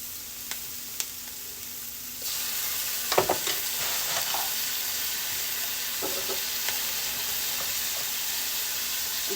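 Ginger frying in a pan, a quiet sizzle that swells into a louder, steady hiss once the ginger hits the oil, with scraping and clinking from stirring scattered through.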